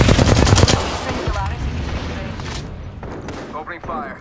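Gunfire in an Apex Legends match: a loud burst of rapid automatic shots at the start, then scattered booms and fainter distant shots under game sounds.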